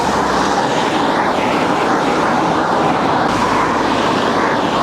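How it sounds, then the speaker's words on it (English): A car passes a cyclist on a road, its engine and tyre noise loud and broad, swelling and receding over a few seconds against steady wind rush, with no talk. "Again, another good driver, overtaking safely"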